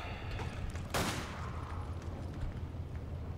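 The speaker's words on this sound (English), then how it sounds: "One shot to the back of the head." A single sharp gunshot rings out once in Resident Evil 5, a bright crack followed by a short decay over steady low game rumble.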